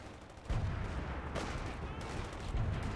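British artillery shells pound a 4v4 match of Company of Heroes 2 on the Port of Hamburg map: a few heavy, rumbling booms burst over constant battle noise while a commentator talks underneath.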